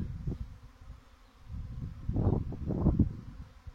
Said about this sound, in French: Là, il y en a des milliers d'abeilles qui volent autour de nous.